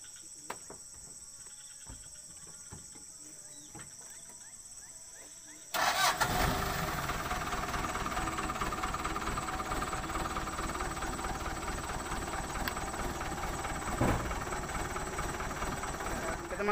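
A tow truck's engine cranks and catches abruptly, then keeps running at a loud, steady rumble before climbing a hill.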